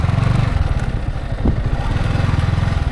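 Several motorcycle engines idle and rumble close by in a crowded university parking area, a steady low chugging throughout with a brief sharper clatter partway through.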